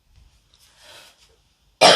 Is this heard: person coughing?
yes